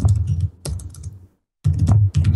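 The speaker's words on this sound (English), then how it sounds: "Just hammering those keys." Rapid, forceful clacking of a computer keyboard in two bursts separated by a brief pause, close and loud.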